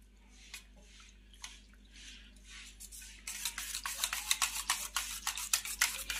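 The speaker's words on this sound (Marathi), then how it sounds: "बेसन घातलेलं आहे आणि छानपैकी विस्करच्या सहाय्याने फेटून घ्यायचं आहे आपल्याला" A whisk beats gram flour batter in a bowl, starting as soft scattered taps and then turning to a rapid, louder run of rhythmic whisking strokes.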